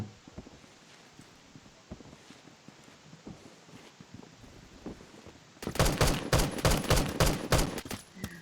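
Gunfire from a gun in a video game: sparse scattered shots and taps at first, then a loud close burst of rapid repeated shots in the final seconds, with no talking.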